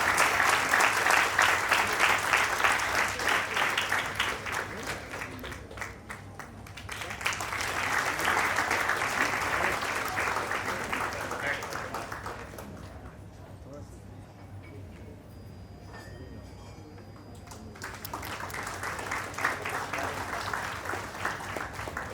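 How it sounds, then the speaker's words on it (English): Thundering audience applause for honored legends at a 75-year platinum jubilee celebration, a dense, loud wash of many hands that eases into a quieter stretch and then swells again. "I would say thundering applause for such legends"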